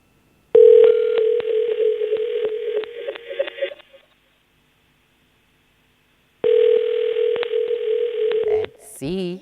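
On a call-in line for a Barbados morning TV show, a steady telephone dial tone sounds in two long stretches with quick keypad dialing beeps inside them, then a short warbling ring tone at the end.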